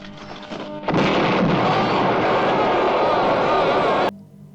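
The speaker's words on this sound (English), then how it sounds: "An explosion goes off" A loud, sudden film explosion from The Hills Have Eyes (1977) erupts into a sustained, roaring rumble that holds for several seconds, then cuts off abruptly.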